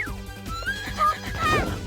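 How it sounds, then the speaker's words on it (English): A horse whinnies in a Japanese Sega Saturn game, a short rising and falling neigh over a looping game music bed with low rhythmic notes. "Great, now I got a horse here."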